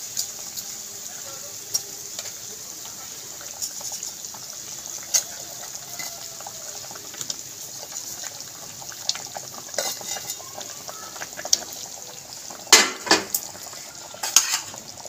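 Curry gravy bubbling as fried potato koftas are added, a faint low simmer with occasional spoon stirs and clinks against the pot, louder scraping near the end.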